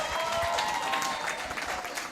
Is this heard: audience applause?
yes